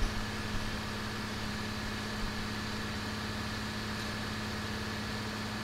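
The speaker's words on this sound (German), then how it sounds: "Ach, ist das ein schöner Traktor" A tractor engine idles in the farming game Farming Simulator 19, a faint, steady mechanical hum that stays even throughout with no other sounds over it.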